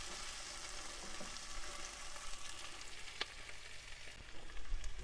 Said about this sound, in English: So what we're doing is sweating the onion, cooking it without colouring it.